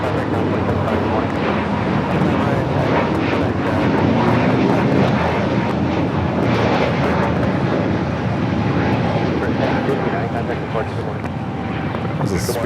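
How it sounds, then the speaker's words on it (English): Spirit Airbus A320neo taking off at LAX, a sustained close jet roar holding loud across the whole stretch, with a person talking over it. "There's a Spirit A320 Neo taking off."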